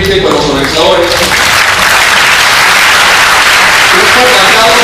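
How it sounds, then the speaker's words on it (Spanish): A university conference audience in Quito applauds the organizers, a loud, dense roar of clapping that swells after the first second and stays strong, with a voice heard briefly at the start. "No me queda más que reservar un aplauso finalmente para los organizadores."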